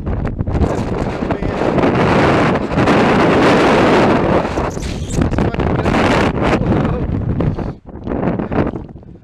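Strong gusting wind buffets the microphone on an open hilltop, loud and roaring almost throughout, easing briefly near the end before picking up again.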